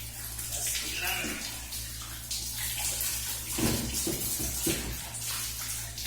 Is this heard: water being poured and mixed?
yes